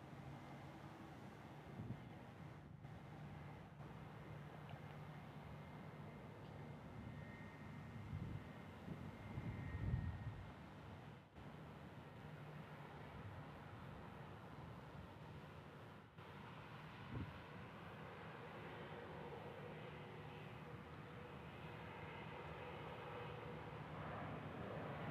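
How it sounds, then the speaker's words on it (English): An airplane nicknamed the Whale at Kansas City International Airport gives a steady, broad engine roar that swells briefly partway through, heard from a distance with wind buffeting the microphone and no talk. "So this is one of my favorite airplanes. The Whale, the Wookiee, Travis"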